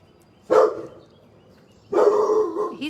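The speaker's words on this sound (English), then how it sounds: "He's always barking at someone." A neighbors' dog barks twice, each a loud, sharp outburst with a short gap of quiet between them, heard from nearby indoors.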